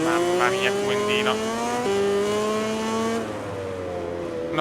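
A motorcycle engine in the MotoGP 20 racing video game drones with a steady, high, tonal whine, the pitch stepping down at shifts and fading lower near the end.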